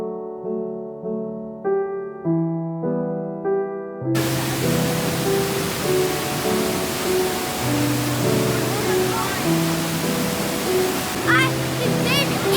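Steady broadband rush of a waterfall in the Watkins Glen gorge, continuous and fairly close, following a few seconds of tonal music before the water noise takes over.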